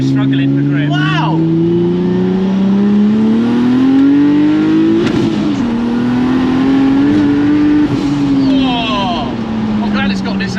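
A Ford F100 pickup with a swapped-in Nissan 370Z twin-turbo engine accelerates hard. The loud, close engine note climbs in pitch, dips briefly, then climbs again as it pulls.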